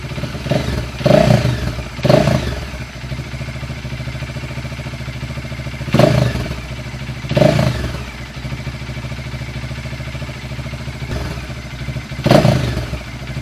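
A Bajaj Dominar 400 motorcycle engine idles with a steady low rumble, broken by a few heavier thumping surges at irregular intervals.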